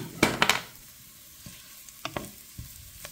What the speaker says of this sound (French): Griller ceci pendant 1 à 2 minutes pour libérer l'odeur et le goût des ingrédients.